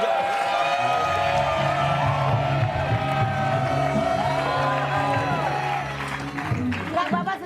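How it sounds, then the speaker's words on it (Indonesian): A television comedy show's studio audience cheers and applauds as the host is welcomed. The crowd noise is loud and lively, with whoops mixed in, and people talk over it. "Kasih tepuk tangan"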